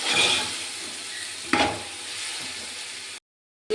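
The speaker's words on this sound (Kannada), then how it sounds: "ಇವಾಗ ಒಗ್ಗರಣೆ ಮಾಡ್ತಾ ಇದ್ದೀವಿ" Hot oil sizzles and crackles steadily as spices are tempered, with a sharp clatter partway through, then the sound cuts out abruptly near the end.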